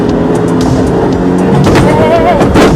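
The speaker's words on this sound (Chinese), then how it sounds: "你们听，踩着油门就上来了。" Road-rage scene in traffic: a car's engine rises as the driver floors the accelerator, a loud, steady roar building up through the clip, close and continuous with no talk.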